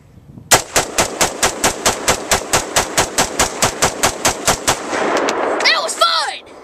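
About twenty loud gunshots fire in a fast, steady rhythm as rounds are shot off. A noisy rushing sound and a brief high, chirping sound follow the volley.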